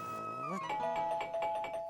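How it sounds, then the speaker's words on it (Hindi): A home doorbell chimes in the middle of the night, a short melodic electronic tune that repeats its bright tones in quick succession, close and clear in a quiet room. "आधी रात को कौन डोरबेल बजा रहा है?"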